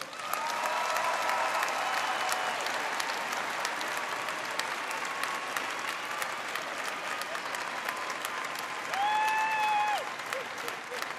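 A big commencement crowd at Saint Louis University's 2022 graduation claps continuously for the graduates, a steady wash of hands with a brief tonal sound rising over it near the end.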